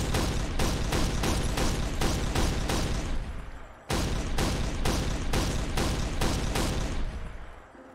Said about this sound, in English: Then we move on to the Flak Gun.